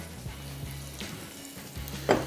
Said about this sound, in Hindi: ये सफ़ेद तिल है। इसको हमने हल्का सा रोस्ट करना है